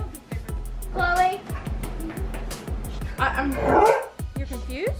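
A Chihuahua barks repeatedly in sharp, close yips spread across the clip, with people talking over and between the barks.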